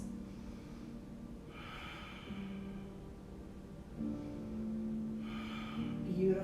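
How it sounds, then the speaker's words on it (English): Slow, deep yoga breaths drawn in and let out through the nose, each inhale and exhale a soft rushing swell that repeats in a steady rhythm over a low, quiet hum. "Two more deep breaths."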